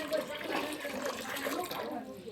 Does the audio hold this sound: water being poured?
yes